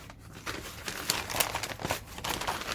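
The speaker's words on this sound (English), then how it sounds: "brown paper shopping bag." A brown paper shopping bag being crumpled and crinkled by hand at close range, a continuous run of crisp rustles and crackles with no talk, while preparing a worm tower for composting.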